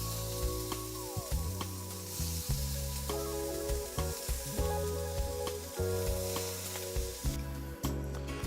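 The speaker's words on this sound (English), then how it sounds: "The beautiful little strip loins of lamb. It should sizzle like mad." Lamb strip loins sizzle hard in a hot pan, giving a loud, continuous frying hiss with intermittent crackles and spatters throughout. No one speaks.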